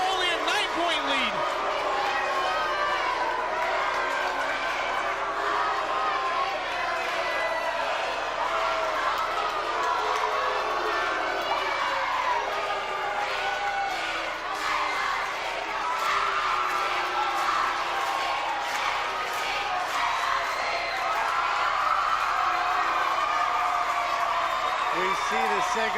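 A basketball arena crowd at a Holy Cross versus Sacred Heart college game keeps up a steady roar of cheering and shouting, with an announcer talking over it throughout.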